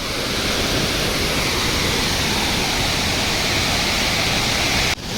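Wei Sawdong waterfall in Cherrapunjee, Meghalaya roars as a loud, dense, unbroken rush of falling water up close, cutting off abruptly near the end.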